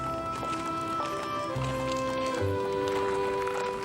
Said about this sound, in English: Lincoln's horse, Old Bob, is brought along to bid farewell to his master